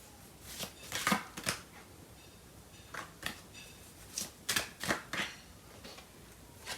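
Tarot cards being shuffled and handled in a quiet room, a series of soft, papery riffles and flicks in uneven bursts, close and fairly faint, with no talking.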